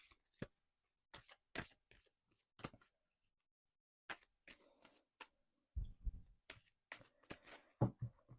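Chakra reading cards being handled and shuffled: a string of sharp, close papery snaps and taps spaced irregularly, with quiet gaps between and a tighter flurry near the end.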